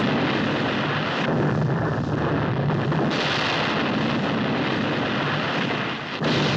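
A sustained, roaring rush of blasts and spraying water, loud and continuous, with deep rumbling underneath and brief shifts in intensity.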